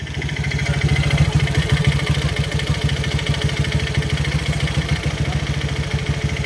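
A motorcycle engine running dry of oil idles loudly with a rough, rapid clattering knock, steady and close throughout.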